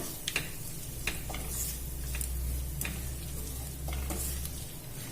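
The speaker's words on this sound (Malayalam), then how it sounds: "ഇനി ഇതിലേക്ക് ഞാന് നമ്മൾ ഇവിടെ എടുത്തു വെച്ചിട്ടുള്ള കുരുമുളകിന്റെ പൊടിയും ഗരം മസാലയും ചേർത്ത് കൊടുക്കാണ്. കൂടി ഇളക്കിയെടുക്കാൻ പോവാണ്." A spoon stirs potato masala with pepper powder and garam masala in a sizzling pan, soft scraping clicks recurring over a steady low frying hiss.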